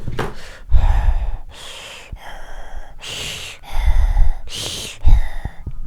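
A voice imitates the eerie, ghostly breathing of a RimWorld colonist, with several loud, rasping gasps and drawn-out breaths in irregular rhythm, close and alone.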